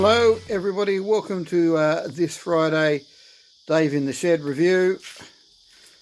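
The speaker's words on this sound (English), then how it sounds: "That is the Australian cicada having a bit of a song because it is summer." Australian green cicadas sing through a summer day as a steady, high buzzing drone that runs behind someone talking in a backyard shed and stays clear in the pauses.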